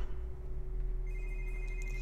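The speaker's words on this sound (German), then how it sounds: "Ach komm, hier diese komischen Telefone." Phones ringing in the video game 007 Quantum of Solace: a steady electronic ringing tone starts about halfway through and continues over a low constant hum, with no talking.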